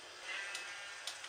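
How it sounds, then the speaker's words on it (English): A sheep in the Minecraft video game gives a single short, faint bleat with a wavering tone, heard alone without talk. "There's the sheep."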